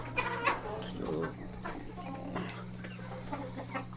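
Farm chickens eat rice and maize feed, giving soft, scattered clucks over a low steady hum, quiet and close, with faint murmuring voices.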